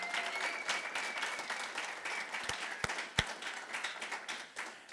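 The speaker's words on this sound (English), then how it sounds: "how about one more round of applause for the Army Sports Hall of Fame class of 2022." Audience applause for an Army Sports Hall of Fame class at an unveiling ceremony, a dense sustained round of clapping from a crowd, with a few sharp individual claps standing out near the end.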